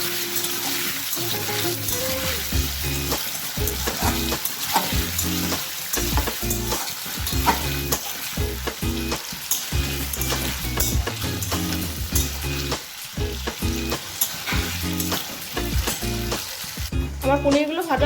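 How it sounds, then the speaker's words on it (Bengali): Paneer cubes fry lightly in a pan, a dense continuous sizzle with frequent stirring and scraping scrapes over it, fairly close and steady without speech. "পনিরগুলো কিন্তু খুব হালকা করে ভাজতে হবে, নয়তো কিন্তু পনিরগুলো রাবারের মতো শক্ত হয়ে যাবে।"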